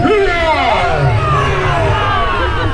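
A crowd at the Quebec City Santa Claus Parade, many of them children, shouting and cheering loudly together in a sustained, noisy roar.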